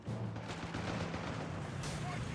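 Machine gun fire in the World War II strategy game Company of Heroes 3, a dense continuous roar of battle with rapid bursts and heavy blasts filling the whole clip, loud and unbroken.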